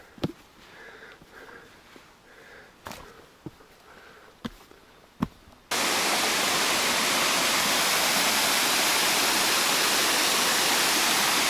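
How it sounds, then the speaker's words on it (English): A rainforest waterfall in Springbrook National Park. After a quiet stretch with scattered sniffs and clicks, a loud, continuous roar of falling water abruptly fills the rest of the clip. "So that's the waterfall, what we have seen there from below."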